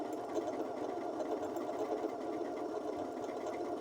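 A Janome 6700P sewing machine stitches fabric with a steady, fast mechanical hum and rhythmic needle chatter, close and continuous throughout.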